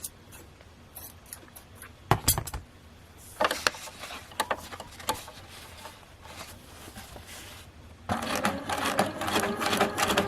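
A sewing machine doing free-motion stitching on cheesecloth, with short rattling bursts and clicks, a louder sharp clack, then a sustained buzzing run of stitching near the end, close up with no talk.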